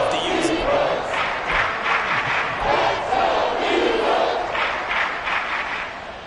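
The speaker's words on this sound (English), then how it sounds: "this crowd making it hard to hear." A loud football stadium crowd roars continuously on a third down, swelling and surging in waves of massed yelling. The crowd noise fills the whole clip and fades slightly at the end.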